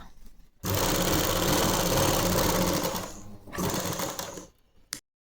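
A sewing machine runs loud and steady, stitching a belt onto a salwar, with a short pause and a second burst of stitching before it stops.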